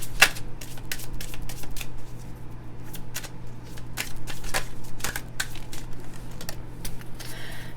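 Tarot cards being drawn and shuffled, giving a steady run of quick papery flicks and riffles close by, with a low constant hum underneath and no talking.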